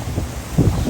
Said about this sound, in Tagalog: grabe, lakas po ng hangin dito.